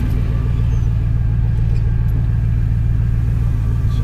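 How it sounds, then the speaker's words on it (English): Idling engine of a 5-speed Chevrolet Silverado extended cab truck with a suspected bearing fault, a loud steady low rumble with a faint whine riding on top, close and continuous. "See if you guys can hear the bearing noise."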